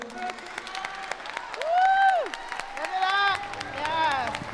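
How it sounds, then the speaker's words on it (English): Applause and cheering break out at a city's state-of-the-city event, scattered clapping under rising whoops and loud voices from the crowd. "One more round of applause for our principal and all that she does"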